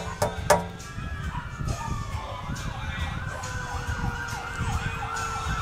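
A wailing emergency siren rises and falls repeatedly at a distance, over outdoor background noise with a couple of sharp knocks early on.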